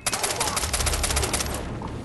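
Rapid automatic gunfire in the video game Far Cry 3, set down in a mine: one sustained burst of evenly spaced, loud shots lasting about a second and a half, then fading into echoing ambience.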